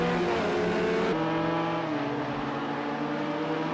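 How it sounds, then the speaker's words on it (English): A race car engine in the Daytona 24 Hour sim race, droning and revving with tonal shifts as it changes pitch, fairly faint and continuous with no talk. "Just hear that engine revving in the background"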